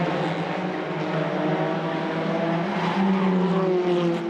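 Two Hyundai TCR touring race cars race side by side, their engines loud and close in a sustained, overlapping high-pitched drone with shifting pitches as they accelerate up a mountain section of the circuit.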